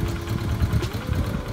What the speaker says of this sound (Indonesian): Jadi sekarang mesin sudah dinyalakan dan suara mesin menjadi lebih mulus setelah pergantian oli dengan oli Motul Gold 3100 ini.